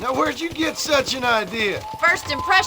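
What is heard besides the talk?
No everyday noise stands out behind the speech.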